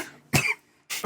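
Two sharp, close coughs about half a second apart, the first longer and raspier, with silence between them.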